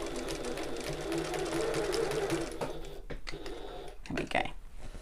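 A sewing machine stitches the pocket of a tote bag, running steadily for about three seconds, then breaking into short back-stitching bursts at the top of the seam, close and clear.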